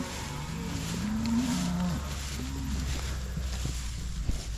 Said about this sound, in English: This couldn't have been any better of a cattle drive.